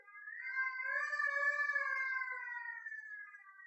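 A real siren sounded at a middle and high school spring band concert, one smooth wailing tone rising and falling over a few seconds, clear and alone.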